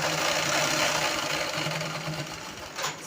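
A sewing machine runs steadily while stitching a long frock, its motor whirring in a continuous close hum with a slight dip and a brief pause near the end.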